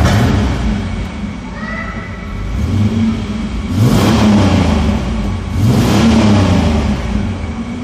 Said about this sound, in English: Now I'm going to depress my foot all the way to the floor.